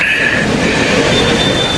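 A loud, close train rumbles past with a dense roar of wheels on rails and a faint high squeal above it.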